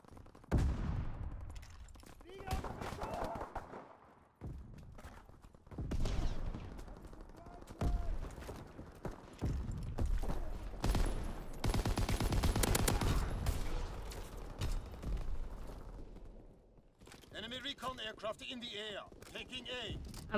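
Call of Duty WW2 online match with near-constant gunfire: loud rifle and machine-gun bursts, scattered explosions and hectic battle noise running throughout, with a player's voice talking over it.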